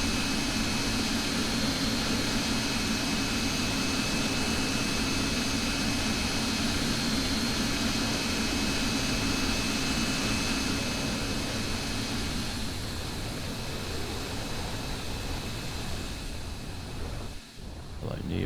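Jet engines of an MD-80 airliner in a flight simulator game make a steady, even drone with a high whine on top. It fades slightly near the end, when a soft bump comes through.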